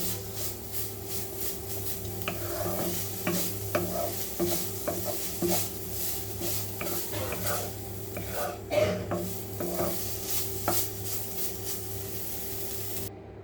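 Chhena and sugar cook down in a pan over raised heat to dry out the water, with soft scraping and stirring strokes, faint sizzling and occasional light clinks, fairly quiet and irregular throughout.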